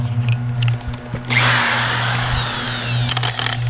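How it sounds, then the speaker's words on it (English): A power drill spins a hole saw into wood during a 2019 Mustang GT hood strut install, with a loud grinding whir starting after a second of quiet handling and running steadily before tapering off. "it keeps the drill bit centered for where you want to drill, and that way that the hole saw will cut in the right spot"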